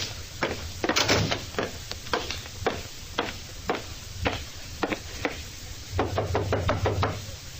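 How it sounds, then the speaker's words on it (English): Knocking on a dressing room door as a 1948 radio drama sound effect, a long run of close, hollow raps in uneven clusters with brief pauses between groups, no voices. "Nobody answered my knock at Janie's dressing room."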